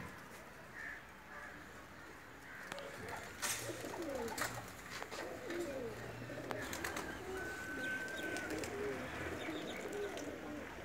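Female Teddy breed pigeons coo softly in a Pakistani loft, with several overlapping coos over a busy background of rustling and light clatter.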